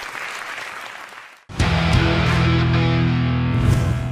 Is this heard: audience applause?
yes